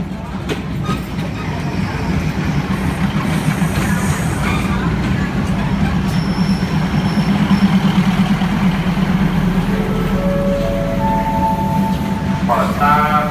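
A Thai diesel railcar sits stopped at Nakhon Sawan station, its engine idling in a loud, steady drone, with people talking nearby and small clanks and a brief chime toward the end.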